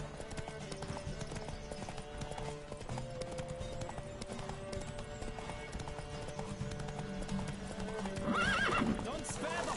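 Horse hooves drum in a fast, steady gallop during a race in Witcher 3: Wild Hunt, with a loud neigh rising near the end over a busy game soundscape and background voices.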